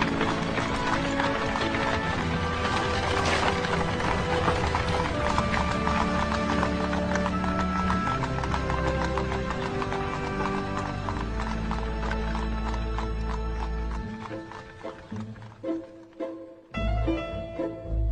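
Several horses clip-clop steadily at close range, with whinnies and neighs rising over the hoofbeats before the sound thins out and breaks off near the end.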